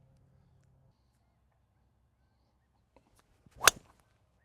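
A Ping G440 K driver strikes a golf ball after near silence, giving one sharp, loud crack with a brief ring, preceded by a couple of faint ticks.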